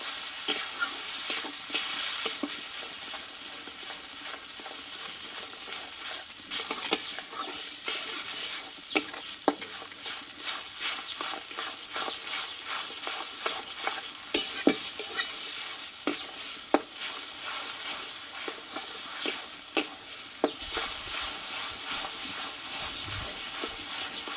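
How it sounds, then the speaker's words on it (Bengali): Pointed gourd and raw potato being sautéed with spices in a pan, with a constant loud sizzle and frequent scraping, clicking stirs of a spatula throughout. "মশলার সঙ্গে এটা কষিয়ে নেব"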